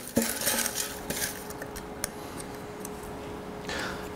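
Paper lottery tickets for an opera ticket draw are stirred and shuffled in a container, with faint rustling, light clinks and ticking taps scattered over a few seconds, close and quiet.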